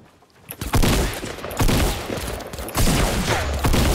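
Bursts of close, loud gunfire from the video game Fortnite Battle Royale in duo mode, with several clustered volleys separated by short gaps and no talking.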